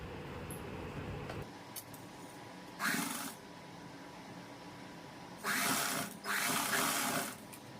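A sewing machine stitches the shoulder seam of an umbrella dress in short bursts, one brief run followed by two longer close runs, heard near and moderately loud over a quiet room.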